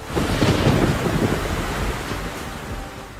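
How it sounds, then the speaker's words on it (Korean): Heavy rain with thunder as a sound effect: a dense, loud roar of rain with a deep rumbling swell that slowly eases off, with no voices. "정말로 엄청난 비가 오기 시작했어요."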